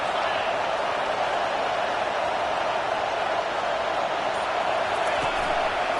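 A college football stadium crowd at an Oregon game cheers in a dense, continuous roar that holds steady throughout, loud and wide.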